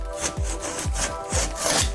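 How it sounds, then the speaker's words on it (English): Rasping back-and-forth cuts into bathtub shower wallboard with wood behind it, about four steady strokes close to the microphone, each with a scraping swoop, and no talking. "Just cutting this wallboard right here."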